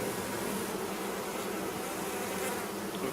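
Bees rolled in a jar with powdered sugar, giving a continuous close buzzing hum that stays steady and fairly loud throughout.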